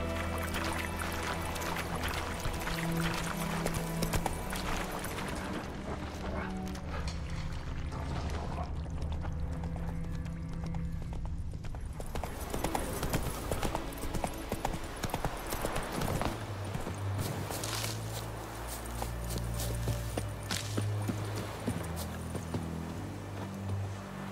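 The horse Roach gallops in The Witcher 3, hooves pounding in a rapid, continuous clip-clop rhythm over game music and ambient sound, loud and close throughout.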